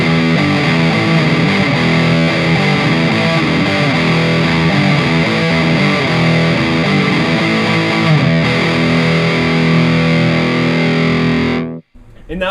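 Electric guitar played through an EQ pedal set flat into an Orange Micro Dark amp, giving a loud, sustained distorted tone with dense chords ringing throughout before cutting off abruptly at the end.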